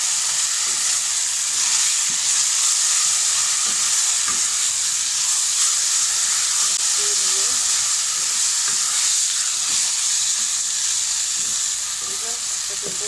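Green chillies fry in a pan for a village-style kochu shak bhorta, giving a loud, steady, unbroken sizzle with a bright hiss that stays even throughout.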